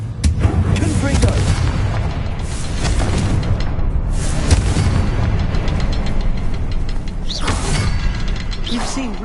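Confringo explosive spell blasts in a Harry Potter video game, loud rumbling booms and crackling bursts layered over dense game ambience, continuous and close throughout.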